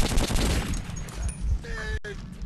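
Short burst of rapid automatic gunfire in the video game Metro 2033, loud and close at first and then trailing off into fainter shots and a sharp click, with a voice talking over it.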